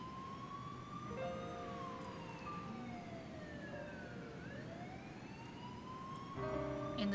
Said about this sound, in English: she could faintly hear the sound of police sirens